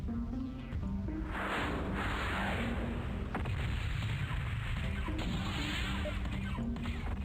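Weapons fired in group from a mech in MechWarrior 2, several loud crashing blasts and explosive bursts layered over a continuous rumbling background.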